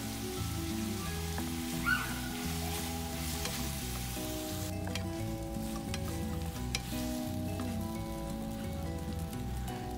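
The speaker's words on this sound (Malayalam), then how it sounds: "ഇത് നന്നായിട്ടൊന്ന് വഴറ്റിയെടുക്കാം നമുക്ക്." Green chilies sautéing with salt in a pan, a dense continuous sizzle like light rain, close and steady for the whole stretch, with occasional stirring, no talk.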